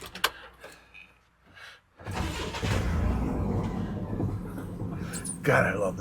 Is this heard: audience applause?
no